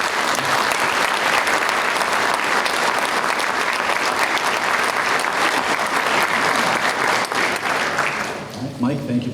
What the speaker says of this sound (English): give a round of applause and recognition